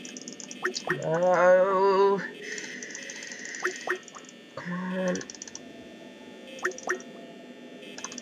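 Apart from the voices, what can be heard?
frantic clicking of a computer mouse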